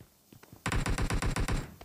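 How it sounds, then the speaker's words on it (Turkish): Bursts of automatic gunfire from another player in the shooter game PUBG Mobile, about nine rapid evenly spaced shots in a row after a few fainter earlier pops, fairly close and with no talk over them. "Evet, biri sıkıyor."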